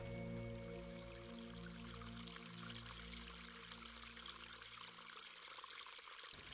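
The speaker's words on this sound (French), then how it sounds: "on remarque que le flux d'eau est un peu vif" Water of the Petit Morin river runs briskly over its bed in summer, a soft continuous trickling rush heard faintly and alone, with a low steady hum underneath.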